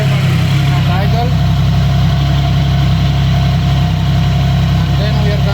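A Triumph Sprint ST 1050 motorcycle engine idles close by, a loud, steady, unbroken low rumble that holds even throughout.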